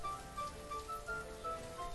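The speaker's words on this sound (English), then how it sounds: "Oh, snow's coming. No, it's rain." Rainfall in the city-building game Banished, a soft steady patter of drops spread evenly across the whole stretch, with faint tonal game sounds and no voices over it.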